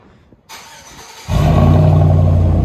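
A 2004 GMC Sierra with a 4.8L V8 and straight-pipe exhaust, muffler and tailpipe cut off, starts after a quiet moment and settles into a loud, steady, deep rumbling idle close by.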